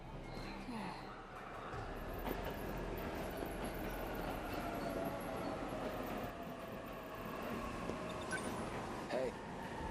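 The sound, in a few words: train arriving at station in video game 13 Sentinels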